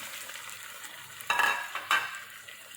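Large pieces of tomato go into chicken frying in a karahi, producing a low background sizzle broken by two louder bursts of sizzling and stirring clatter.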